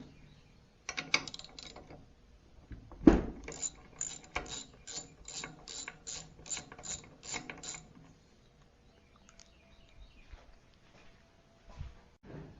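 Spark plug being unscrewed from a small L-head flathead engine during teardown, a quick run of rhythmic ratchet clicks in a close, quiet room, with a few knocks and handling sounds around it and no talk.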